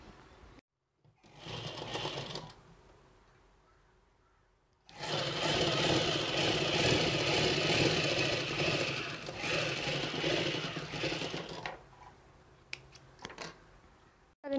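Sewing machine stitching folded cloth for a homemade mouth mask, running in a short burst, pausing, then in a long steady whir of rapid needle strokes before stopping amid light handling clicks, close up without talk.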